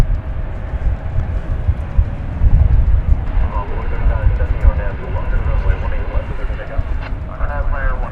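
A 1983-built airliner at DFW Airport rumbles in a steady broadband roar, with a faint rising whine late on, while people talk over it throughout.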